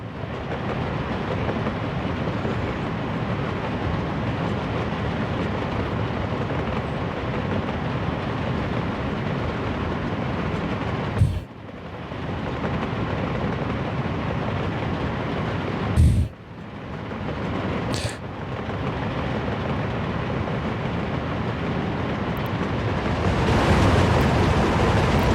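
A train runs along a railway with a steady rumbling roll, loud and continuous, broken by a few sharp clanks and brief gaps.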